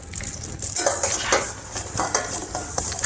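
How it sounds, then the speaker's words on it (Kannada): Mustard seeds dry-roasting on a low flame while being stirred for sambar powder, a steady scraping of a spoon against the pan over soft crackling, close and fairly loud, with no voices. "ಈಗ ಸಾಸಿವೆನೂ ಕೂಡ ಕಡಿಮೆ ಉರಿಲಿ ಫ್ರೈ ಮಾಡ್ಕೊಳ್ಳೋಣ."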